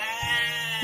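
Animated sheep bleat during a fight in a cartoon jungle story: one short, wavering, nasal bleat, close and clear on its own.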